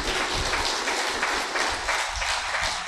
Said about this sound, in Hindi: अपने लिए ताली बजा लो आप